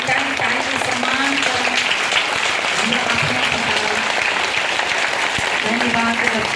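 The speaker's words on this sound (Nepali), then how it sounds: "एकदम ताली सम्मान" A church gathering breaks into applause, dense clapping filling the whole span while a voice speaks or calls out over it at intervals.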